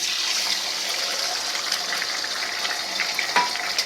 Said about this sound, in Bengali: এখন আমি তেলে ডিম দিয়ে দিচ্ছি 2টা